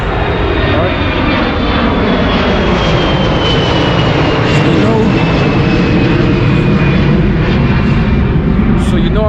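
A fixed-wing airplane near an airport roars loudly and steadily throughout, a dense broadband engine drone with a faint high whine gliding slowly downward as it passes, with no speech over it.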